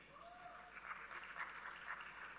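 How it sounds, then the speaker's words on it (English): Conference audience clapping for a presenter at a health session, a moderate, fairly faint patter of hands that swells in small pulses and continues evenly, with a brief tonal sound near the start. "So please give an applause to Madam"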